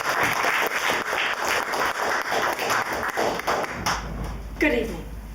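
A room full of people applauds warmly for Kate Hewlin at a youth talent evening. Dense, steady clapping fills the first four seconds, then fades as a voice begins speaking close by.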